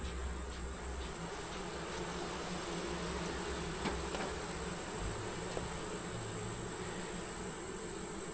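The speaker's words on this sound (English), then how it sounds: "I'll give them a little bit of smoke just to get rid of some of these bees at the top." Honeybees humming at an opened backyard hive, a steady dense buzz with a thin high whine layered on top, continuous and fairly close, no voices.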